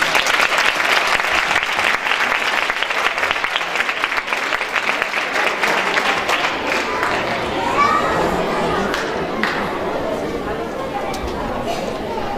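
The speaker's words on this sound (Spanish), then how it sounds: "Un fuerte aplauso." Loud, energetic clapping from parents and children at a school Christmas party greets the fifth-grade pupils, with excited voices mixed in, gradually thinning into scattered claps and chatter.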